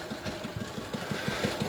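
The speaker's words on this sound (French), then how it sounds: "tout près d'un moteur Bernard de 5 chevaux, au refroidissement par eau, donc c'est un ancien" Vintage water-cooled Bernard 5 hp engine running steadily nearby, its low, even put-put firing pulses repeating at a regular idle rhythm throughout, with no talk over it.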